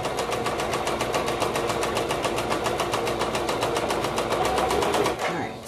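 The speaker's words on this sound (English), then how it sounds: "So I'm going to backstitch, start the seam, and backstitch." A sewing machine runs at a fast, even stitching pace through fabric while backstitching a toddler maxi dress seam, close and steady for several seconds before stopping abruptly near the end.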